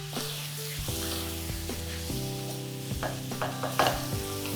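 Minced lamb seasoned with cinnamon, black pepper and allspice sizzles in a pan while being stirred, soft scraping and frying hiss over steady tonal background music.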